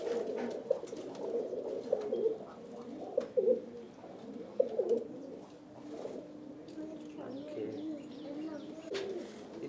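Racing pigeons in a loft in Palakkad, Kerala, coo in repeated soft, throaty rolling phrases, fairly close, with a few overlapping birds and quiet background.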